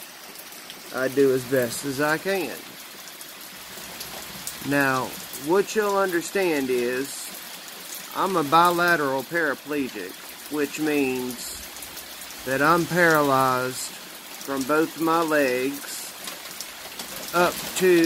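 Steady rain falling outdoors, a continuous soft hiss and patter running beneath someone talking at length close to the microphone.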